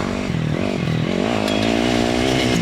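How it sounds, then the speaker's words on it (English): A dirt bike ridden on a short practice lap, engine droning loud and close with a steady buzzing tone that climbs slightly in pitch as it revs. "I go for a short little lap to get comfortable on the bike"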